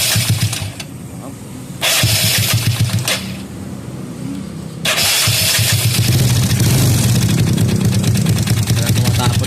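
A Yamaha Mio scooter with a faulty oil pump is started, cranking in short bursts before catching and settling into a steady close idle, with a voice briefly heard.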